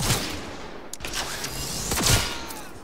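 Rapid, heavy gunfire from the Widowmaker tech precision rifle in Cyberpunk 2077 crackles in a dense burst of overlapping shots with loud booming impacts, sustained and close over a noisy backdrop.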